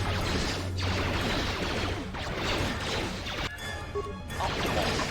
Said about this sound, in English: I hope you guys are ready for blaster noises.